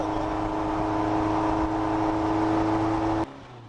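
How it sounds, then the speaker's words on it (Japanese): Caterham Super Seven with a carburetted engine drones steadily through its muffler exhaust while cruising, a loud continuous hum with firm low harmonics that drops off abruptly near the end. "大半マフラーの音でかき消されるから"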